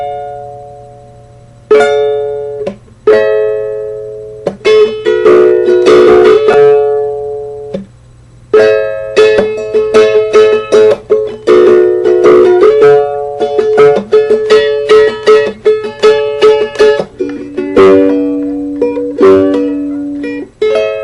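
Solo ukulele plays the chords of a song, with bright plucked and strummed notes in phrases separated by short pauses, close and clear.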